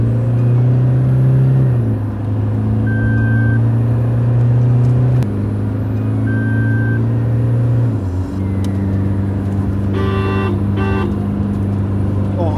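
A stage-1-tuned Toyota Fortuner SUV drives with a loud, steady engine rumble whose pitch steps down several times as it moves, plus a brief tonal beep near the end.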